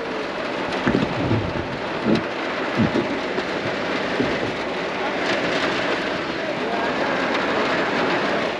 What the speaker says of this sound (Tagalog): Nakaligo na ba kayo sa ulan na ang background nyo,